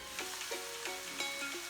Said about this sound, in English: Our meat is getting very good fried.